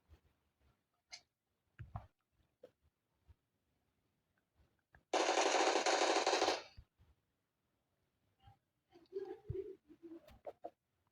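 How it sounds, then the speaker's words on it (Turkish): A loud, sustained burst of automatic gunfire in a video game shooter, fired through a wall, lasting about two seconds amid sparse clicks, taps and short bursts of faint game sounds before and after. "Duvar arkası vurdun."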